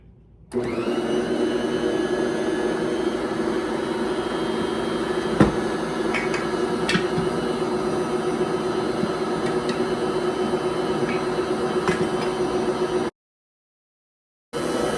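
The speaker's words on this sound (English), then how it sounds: "I am going to turn up the mixer to 2 on my Bosch." A Bosch stand mixer kneads bread dough at speed 2, a steady loud motor whir with a constant droning hum running nearly unbroken, a few faint knocks and clicks from the bowl, then cutting off abruptly near the end.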